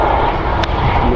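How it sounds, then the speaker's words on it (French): Écureuil helicopters run at an airfield, giving a steady, loud engine and rotor roar with a dense broadband rumble that holds for a short stretch. "Le bruit de ces hélicoptères écureuils."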